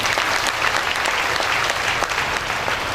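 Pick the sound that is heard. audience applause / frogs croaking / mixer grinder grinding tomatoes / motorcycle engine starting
audience applause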